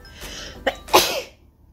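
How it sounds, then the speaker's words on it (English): A single person sneezes indoors, a quick sharp in-breath followed by a louder explosive burst, close and clear against a quiet background. "I'm gonna sneeze."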